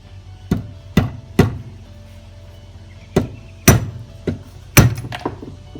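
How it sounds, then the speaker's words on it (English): Sharp, irregular hammer strikes driving a nail through a Bolens G14 brake pad liner, about eight close metallic thwacks with uneven pauses between them, heard alone without talk. "End up using the nail like this, and just hammering the nail through it."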